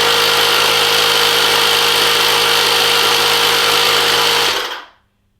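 Ryobi RR18I-0 cordless tyre inflator running steadily, a loud, close, buzzing motor drone with a constant whine that holds for nearly five seconds, then cuts off abruptly into silence.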